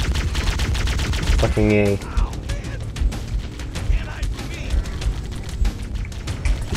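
Gunfire in the video game Halo: Combat Evolved, with rapid bursts of shots, a short tonal electronic blip and mechanical clatter, while a man swears briefly over the action.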